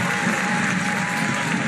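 A basketball arena crowd at a college game between Drake and Iowa State roars steadily, with loud, dense cheering and applause sustained throughout.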